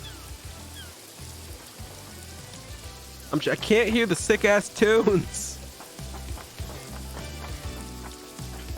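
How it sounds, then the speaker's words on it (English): Heavy in-game rain from the video game Paradise Killer hisses steadily throughout, loud and continuous, with a person speaking briefly over it in the middle. "Can we calm down with the rain, please?"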